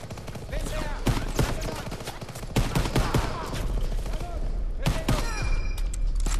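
Gunfire in the video game Call of Duty WWII, rapid rattling bursts and single shots, loud and close, going on steadily with a voice talking over it.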